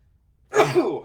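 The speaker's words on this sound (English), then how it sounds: "I'm going to sneeze here in 2 seconds" After a brief silence, a single abrupt, breathy sneeze bursts out close to the mic.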